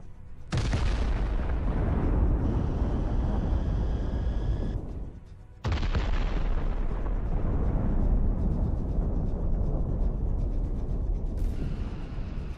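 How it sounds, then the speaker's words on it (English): Ammunition inside an armored personnel carrier detonates after a drone strike, producing two long, roaring explosive blasts that each fill several seconds with heavy, rumbling noise, separated by a brief drop in level. "The temperature quickly ignites the ammunition, and there is an incredibly violent explosion."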